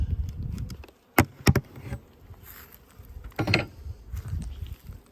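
Low humming of honeybees at a hive, broken by sharp knocks and scraping clicks from handling, with no talking.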